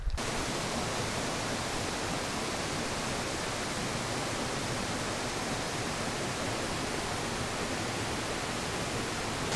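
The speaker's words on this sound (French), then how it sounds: "C'est des belles chutes, mais c'est dommage, il n'y a pas de bon point de vue pour les voir au complet." Waterfall in Gros Morne National Park, a dense, constant roar of falling water, loud and unbroken throughout with no voices.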